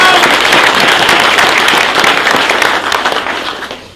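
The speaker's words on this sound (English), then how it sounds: "So quick round of applause for those guys" A crowd at a long-range rifle shooting competition breaks into loud, dense applause that carries on steadily before tapering off toward the end.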